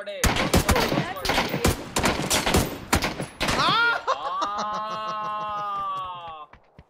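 Rapid bursts of gunfire ring out in a squad-based shooting video game, in close, loud volleys, then give way to a sustained ringing tone near the end.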